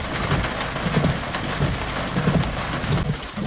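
Steady rain pouring during a summer thunderstorm in Florida, a dense continuous hiss with faint low rumbles of distant thunder underneath, no voices.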